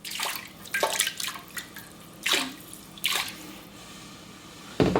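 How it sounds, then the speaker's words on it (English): Water splashes and pours in short bursts into a pot of spiced chicken vindaloo, several separate gushes close by with quiet pauses between them. "I'm gonna add some water here, like half cup."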